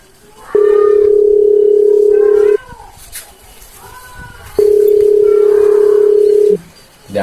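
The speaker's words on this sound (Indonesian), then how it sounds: "telepon lah ku si Amang we" A phone call rings out as two long, steady electronic tones, each about two seconds with a pause between, over faint background noise.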